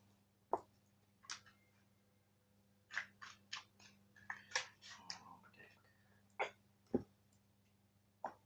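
Tarot cards being pulled from a deck, quiet sharp snaps and papery flicks scattered irregularly at close range over a low steady hum.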